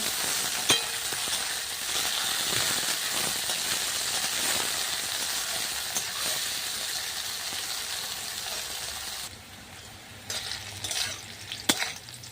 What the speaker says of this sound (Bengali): তেলটা গরম হয়ে গেছে, দেব উচ্ছেগুলো। উচ্ছেগুলো দিয়ে ভেজে একটু নেড়ে নেব।